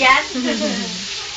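Chicken frying in a pan gives off a steady, loud sizzle that stays even throughout, with faint voices in the background.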